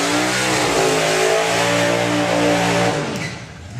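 Supercharged Outlaw drag racing cars rev hard at a Bug Jam drag strip, a loud, dense, sustained engine roar with steady harmonic drone that eases slightly near the end, no talk over it.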